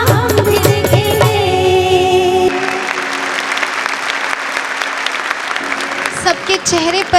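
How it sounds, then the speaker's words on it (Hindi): Thunderous audience applause at a stage performance, a dense wash of clapping that follows a musical ending and keeps going steadily to the end. "सबके चेहरे पर मुस्कान और तालियों की गड़गड़ाहट"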